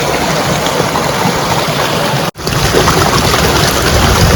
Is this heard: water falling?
yes